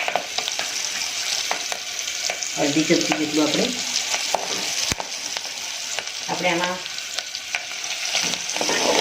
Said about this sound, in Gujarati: થોડા સોફ્ટ થાય એટલે આપણે એમાં દાણા જીરું એડ કરી દઈશું.